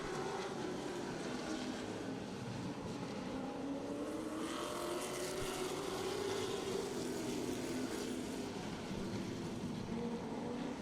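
Race cars roar through a heat race on a local oval track, a dense, continuous engine drone with rising and falling pitch as the pack sweeps past, loud and steady throughout.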